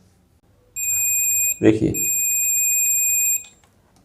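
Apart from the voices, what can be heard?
digital multimeter continuity test beep on a fuse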